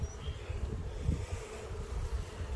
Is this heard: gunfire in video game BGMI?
no